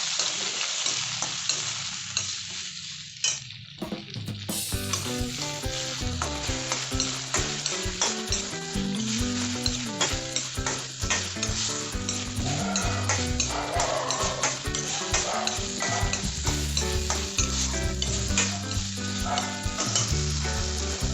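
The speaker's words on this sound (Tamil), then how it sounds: "வரமிளகாயும் சேர்த்து நல்லா வணக்கிக்கோங்க தக்காளியும் சேர்த்து நல்லா வணக்கிக்கோங்க" Tomatoes and dried red chillies sauté in a pan, making a continuous loud sizzle with a steady stream of clicking stirring and scraping, starting after a brief quiet moment, with no speech.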